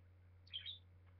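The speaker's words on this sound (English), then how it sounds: "As you can hear, my birds are out" A pet bird gives a brief high chirp indoors, faint and quick, over a low steady electrical hum.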